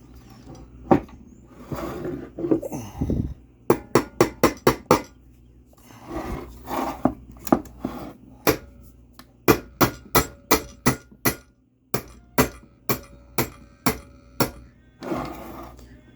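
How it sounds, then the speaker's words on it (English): Sharp metallic hammer blows land in rapid bursts of several strikes each, separated by short pauses and some scraping handling noise, close up, as a part is hammered into a Predator 212 small engine during a governor delete. "I'm gonna hammer this back in. We're gonna hammer it."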